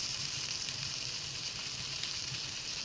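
Food fries in a pan over a campfire in the video game Palworld, a soft, steady sizzle and crackle holding at low volume throughout.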